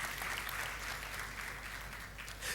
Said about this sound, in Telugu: చప్పట్లు కొట్టొచ్చు అక్కడ